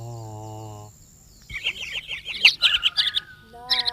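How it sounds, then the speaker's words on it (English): Several small birds chirp and sing in a tree near a house, a rapid run of bright, high tweets and trills after a lower tonal lead-in, fairly close and clear with no talk over them. "in a tree nearby the house, some birds were singing."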